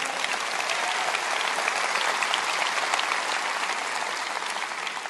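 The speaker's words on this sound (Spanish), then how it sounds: "Dale un buen aplauso." Congregation at a Spanish-language church service applauds in a full, even, continuous roar of clapping that fills the whole stretch, loud and steady with no voices on top.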